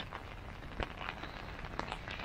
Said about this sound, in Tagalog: Malakas yung ulan ngayon dito sa kanila.